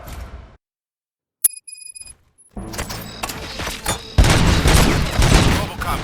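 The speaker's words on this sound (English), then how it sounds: "Gunshots? What's going on?" Gunfire in the video game RoboCop: Rogue City, bursts of shots and booms building into a loud, dense fusillade over the final seconds after a quiet gap and brief chime.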